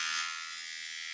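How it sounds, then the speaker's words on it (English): Electric shaver buzzes steadily in a continuous high, even drone, close and moderately quiet, with no voices over it. "So now, when I wanna add the noise, I want to put the shaver a little bit further."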